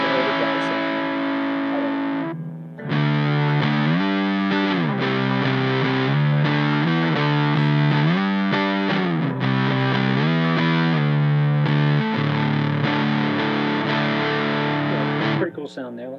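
Fender Jazzmaster electric guitar played through a fuzz pedal with sustain wide open, thick distorted chords ringing loud and continuous with brief breaks as the notes change.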